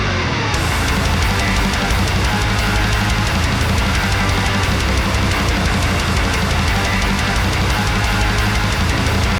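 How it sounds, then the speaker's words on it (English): Layered electric guitars, pitched up an octave with a Pitchfork octave pedal and blended into a dense, full-band mix, give a sustained, string-like wash that runs loud and continuous throughout. "He used some kind of octave pedal, I think, pitchfork octave pedal, pitched the guitars up an octave and blended them in."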